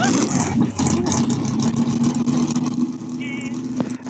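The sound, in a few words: dragster car engine started and revving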